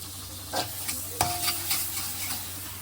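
Three cloves of crushed garlic sizzle and fry in a hot pan during home Ramadan cooking, a steady crackling hiss punctuated by a few stirring scrapes and one sharp clink, close up with no talking.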